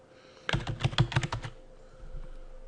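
A burst of rapid keystrokes on a computer keyboard, about a second of close, clicky typing with no voices, entering product attribute names while building an online shop.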